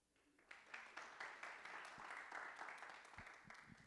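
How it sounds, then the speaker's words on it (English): A conference audience at the OCLC 2025 introduction session claps, swelling quickly into a warm, steady round of applause from a roomful of people, faint and somewhat distant, tapering toward the end. "Can we greet them with a warm round of applause"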